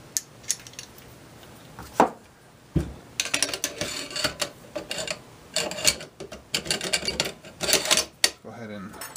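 Metal parts of a Norinco AK-47 underfolder rifle click, scrape and rattle as the bolt carrier is fitted, with a busy run of close, sharp clanks and slides.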